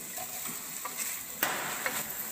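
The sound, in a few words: carrots frying and being stirred in a pan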